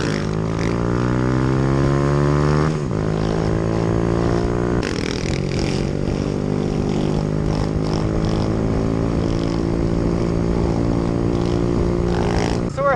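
A Yamaha WR450F dirt bike engine runs loudly and close while riding toward BMX trails, its tone climbing through gear changes with a steady mechanical drone and wind buffeting.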